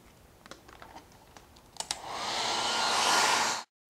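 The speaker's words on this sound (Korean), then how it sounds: "드라이기로 완전히 말려주세요" Some light clicks and taps, then a hair dryer switches on, drying fabric paint, and blows with a steady rushing whoosh before cutting off abruptly.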